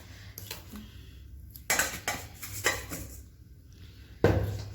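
A bowl is handled in a home kitchen while gram flour is added for pakoras, producing a few sharp close clinks and knocks of dishware separated by quiet pauses.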